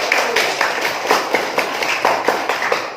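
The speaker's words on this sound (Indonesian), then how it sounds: "Tepuk tangan buat kelompok" A classroom of students claps for a student group after its presentation, giving a close, brisk run of distinct claps from a small crowd.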